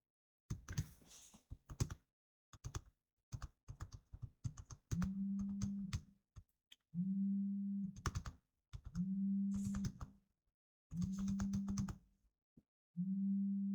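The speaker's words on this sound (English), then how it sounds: "we will type categories in cell A3" Computer keyboard typing in Excel comes as quick bursts of close, crisp key clicks separated by short pauses, with a repeated electronic tone sounding between bursts in a quiet room.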